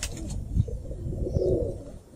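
A nearby pigeon gives a low, throaty coo in a short rolling phrase, fairly loud and close, with no speech over it.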